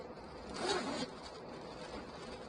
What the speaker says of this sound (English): Inside there is a zipper pocket right here.